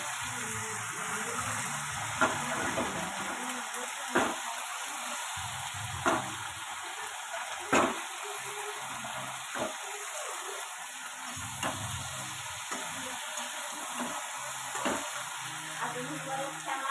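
Saag greens frying in a pan and being stirred, a constant close sizzle with a steady hiss, broken by sharp scraping clicks of the spatula every couple of seconds.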